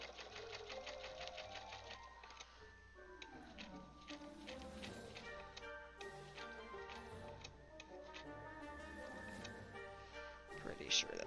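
A sewing machine quilts a Seahawks quilt, its rapid ticking stitches running steadily under people talking, with tonal background sound throughout.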